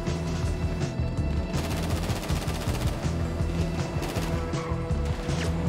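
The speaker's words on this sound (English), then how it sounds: "I'm gonna just shoot everybody." Sustained automatic gunfire from a heist shootout in a video game, dense and continuous with layered bursts over a steady low rumble and no talking.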